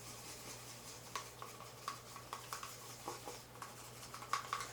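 Small paintbrush stirring thin, milk-consistency weathering paint in a little container, giving soft intermittent clicks and scrapes of bristles against the sides, faint and close with a steady low hum underneath.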